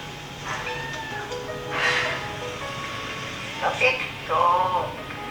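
Several short meows from a cat that follows an elderly woman around a remote mountain village, moderately close over a steady background hum with faint voices.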